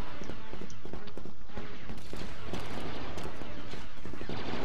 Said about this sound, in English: The repeater pistol seems pretty neat.